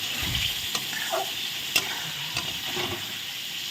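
Rohu fish curry masala being sautéed in oil in a pan, a continuous sizzle with scraping stirs and a couple of sharp spatula knocks against the pan, no talking.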